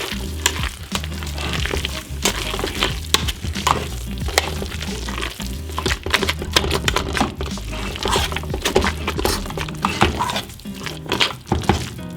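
Bacon sizzles and crackles loudly in a hot pan, a constant spitting hiss broken by sharp pops and occasional clanks of a utensil.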